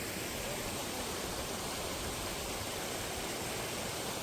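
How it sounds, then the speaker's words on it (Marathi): Steady, even rush of a small stream or spring-fed waterfall along a riverbank trail beside the Narmada, a constant broadband wash of water filling the whole stretch with no voices. "आजचा आपला हा तिसरा का चौथा झरा आहे."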